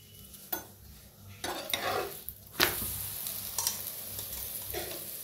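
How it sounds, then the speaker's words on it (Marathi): Chapati flatbread roasting and puffing on a hot griddle with oil, giving a close, soft sizzle and occasional scrapes and pats, with no talk. "ह्याला बी शेकून घेऊया। बघा मस्त चपात्या फुगायला लागल्या त्या तेल लावून घेऊया।"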